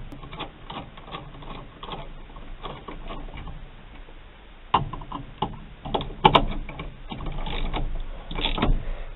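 A socket ratchet tightening the nut on a GM steering column, giving quiet rapid clicking with a few sharper metallic knocks, close and alone.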